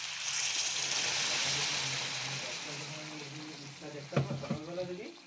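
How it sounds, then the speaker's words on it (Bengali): Hot water pours into a pan of sizzling chicken and potatoes, giving a loud, close, steady hiss and bubbling that eases off, then a few clanks of a utensil against the pan near the end. "এখন দিয়ে দেবো গরম জল।"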